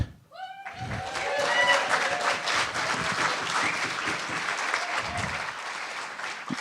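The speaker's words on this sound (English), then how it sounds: "we give a big round of applause to the organizers" Audience applause for event organizers at a closing prayers gathering, rising quickly and holding as a loud, dense, sustained wash of many hands, with a few high vocal sounds at the start.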